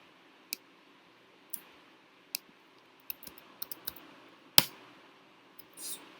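Keys on a computer keyboard are pressed in a quiet room: isolated sharp clicks at first, then a quick cluster of taps and one louder press near the end.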